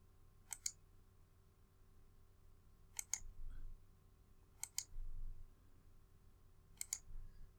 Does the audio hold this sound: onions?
no